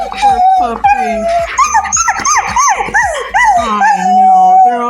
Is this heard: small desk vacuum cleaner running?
no